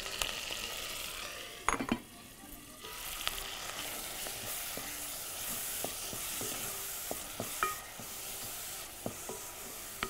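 Tomatoes sizzling steadily in a hot frying pan while being stirred, a constant close crackle broken by scattered clinks and scrapes of a utensil against the pan.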